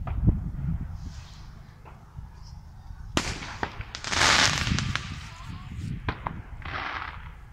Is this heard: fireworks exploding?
yes